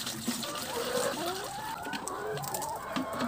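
Chickens on a backyard farm cluck and squawk in overlapping calls over a steady outdoor background, with laying hens among the flock and no talk.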